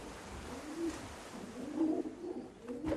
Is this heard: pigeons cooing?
yes